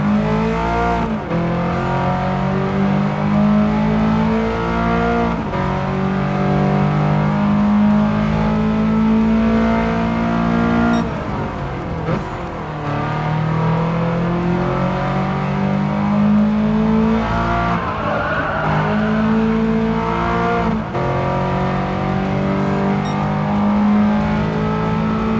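Race car engines roar continuously in a Gran Turismo 7 race, loud and close, with sustained revving that rises and falls through gear changes and a brief dip midway, with no talk over it.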